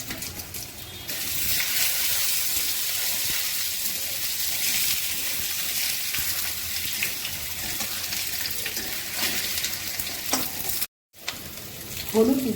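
Potato pieces sizzle loudly in hot oil just after tempering with cumin seeds and bay leaf for a rohu fish curry with potato and pointed gourd, a steady dense crackle with a brief silent gap near the end.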